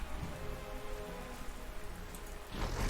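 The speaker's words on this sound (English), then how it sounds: "It's raining" Steady soft rainfall in the World War II strategy game Panzer Corps, a faint even patter throughout that swells louder in the last half second.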